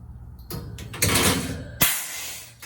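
Doors of an oil content meter sample cabinet are pushed shut, giving a short run of sliding, clunking thuds with a sharp knock near the end, close by and with no voices.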